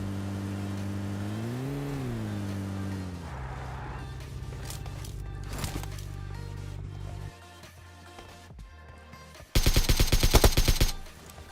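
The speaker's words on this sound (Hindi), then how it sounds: "इस बंदे को फटाफट से फिनिश करने के बाद मैं यहाँ से गाड़ी लेकर निकल लेता हूँ" In PUBG Mobile, a vehicle engine drones and revs with a rising and falling pitch, scattered shots crack out, and a loud rapid burst of automatic gunfire comes near the end.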